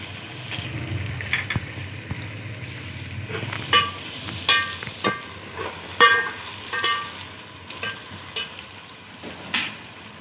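Nigella seeds and salt sizzle in hot oil in a frying pan, a steady close crackle broken by repeated scraping stirs and small pops.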